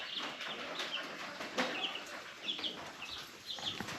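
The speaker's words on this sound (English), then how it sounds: "I got the baby chicks right here, and I've got the baby ducks right next to them over there with Mama Duck" Baby chicks and ducklings kept side by side, with a mother duck nearby, give off a steady stream of high, thin peeps and chirps with faint wing flutters, continuous and fairly close.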